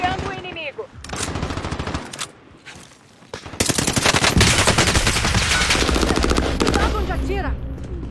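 Automatic gunfire rattles in the video game Warzone, with short bursts early and then a long, loud, sustained stream of rapid shots, while voices talk over parts of it.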